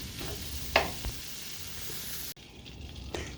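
Lobster meat sizzles in a pan with Cajun seasoning, a steady close frying hiss with a brief clatter early on, then a sudden cut to quieter sizzling.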